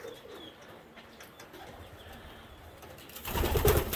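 Saxon homer pigeons give soft, low cooing near the start, followed by a louder burst of fluttering or rustling toward the end, with no voices.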